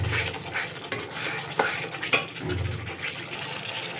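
Chicken curry masala stir-fried in a pan gives a continuous low sizzle, broken by several sharp scrapes and clinks of a spoon against the metal at irregular intervals.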